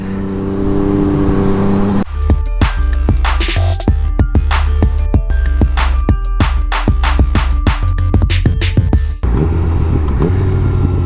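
A motorcycle out on a ride, its engine loud and close, revving and shifting through a run of rapid rising and falling pulses before settling back, with no talking.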